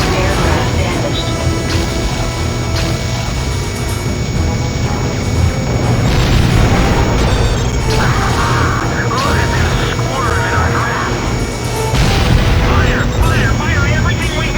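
Explosions and weapon fire from an aircraft combat video game, dense continuous booms and crashes layered under game music, with voices talking over the action throughout.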